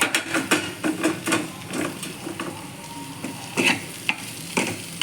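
Salted poha stirred in a frying pan, with a steady sizzle under frequent sharp scraping and tapping of a spoon against the pan, close and continuous.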